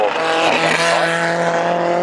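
A 2-litre Grand Prix Formula 1 race car at the Goodwood Madgwick Cup roars loudly and continuously, its engine note rising and shifting as it passes close by.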